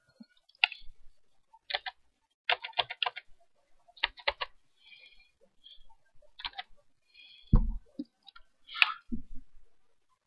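Scattered keystrokes on a computer keyboard entering a DPI value in GIMP, a few quick clusters of crisp taps with pauses and a soft thump, close and alone in a quiet room.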